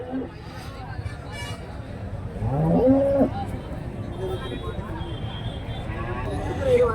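A cow moos once loudly, a drawn-out low call, amid steady background hubbub and murmuring voices of a busy cattle market crowd at Karimangalam market.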